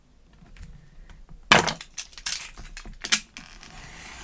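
Scissors snip through a strip of paper in a few crisp, close cuts with rustling and crinkling between them, after a quiet lead-in.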